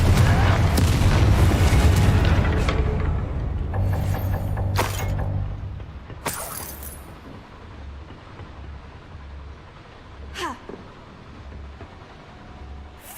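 Incendio fire spell cast in Hogwarts Legacy: a loud rumbling whoosh and burst opening the scene, then fading crackles and a few sharp flares over low game ambience.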